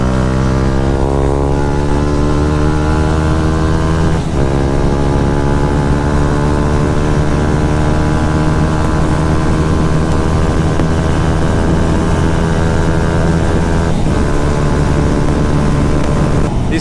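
A motorcycle accelerates onto a dual carriageway, its engine note climbing steadily through the gears with two brief dips at the shifts, loud and close, mixed with wind rush and no speech.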